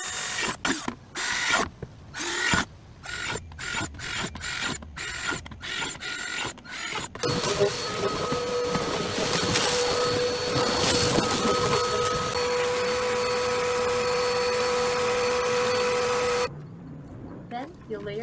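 Holes being drilled into a plastic compost bucket: a string of short mechanical bursts with gaps, then a long steady drill whine that ends abruptly, with a voice talking over parts of it.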